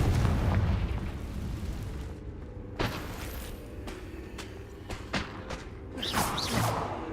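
A Confringo fire spell in Hogwarts Legacy explodes with a loud rumbling blast, followed by a quieter stretch broken by several sharp bursts and whooshes.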